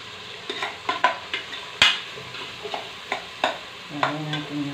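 A spoon stirring munggo beans in a cooking pot in a hot Manila kitchen, with soft, irregular scraping and clinking strokes about every half second, close and fairly quiet, including one sharper knock.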